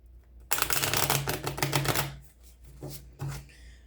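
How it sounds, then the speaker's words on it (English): A quick burst of riffled oracle card shuffling, crisp and close, running for about a second and a half, then a few shorter shuffles trailing off. "All right, one more shuffle."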